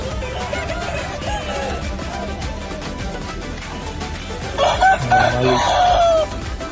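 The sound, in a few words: chickens clucking and rooster crowing at hen market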